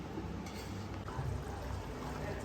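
Part-cooked rice for mutton biryani, about 80% done, is tipped into a strainer, giving a steady close rush of draining water and splashing that runs without pause.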